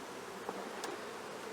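Honey bees hum faintly and steadily at an opened breeder hive in the tropics just after being smoked, a soft continuous buzz with a couple of brief louder passes.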